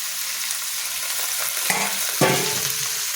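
Kharkol greens go into a hot frying pan and set off a steady, close sizzle, with two soft stirring scrapes partway through.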